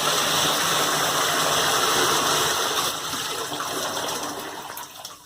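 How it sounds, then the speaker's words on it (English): Forceful water gushing and splashing under pressure in a DIY mini highbanker, a steady loud broadband rush that eases slightly toward the end, with a low mechanical hum beneath. "You got a good amount of pressure coming out, and it's splashing everywhere"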